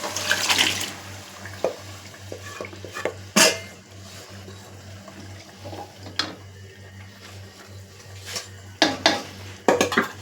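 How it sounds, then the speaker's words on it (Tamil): Cooked mutton is poured into a pan with yogurt, giving scattered clinks and scraping of metal utensils against cookware with a few louder clatters, close up and with no talking. "இப்போ அந்த மட்டனை அதில் ஊற்றிக்கலாம்"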